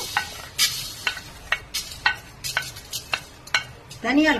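Coriander seeds dry roast in a hot kadai for chana dal powder, with rhythmic scraping stirs and light rattles of seeds against the metal pan repeating about every half second over a faint sizzle, with no voices.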